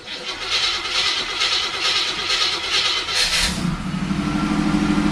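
A 1979 Hurst Olds Cutlass V8 cranking after a few pumps of the gas pedal and catching, settling into a steady idle rumble, close and fairly loud with no talk.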